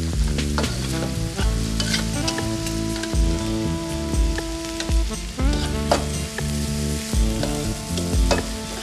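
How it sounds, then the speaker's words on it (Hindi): Ingredients with chopped ginger frying in a pan until brown, a loud close crackling sizzle with irregular stirring clatters throughout, no talk. "और आप इन इंग्रेडिएंट्स को इतने तक कुक करेंगे जब तक ये ब्राउन हो जाएं।"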